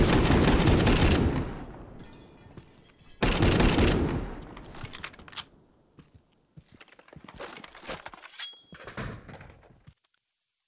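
A video game shooter fires two long, loud bursts of gunfire, the second after a short pause. Quieter clattering steps and thuds trail off toward the end.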